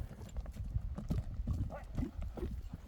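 A horse's hooves clip-clopping on the ground, a quick uneven run of close, thudding steps, with people talking underneath.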